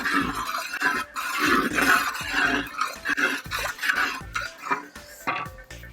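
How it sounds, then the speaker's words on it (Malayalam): Wayanad-style bone curry (ellu mutti) with a squeeze of lemon juice being stirred in a pot, producing a loud, continuous run of rhythmic metal scraping and clinking. "ഒന്ന് ഇളക്കി മിക്സ് ചെയ്യുക"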